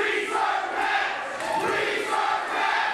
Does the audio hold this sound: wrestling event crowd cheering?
yes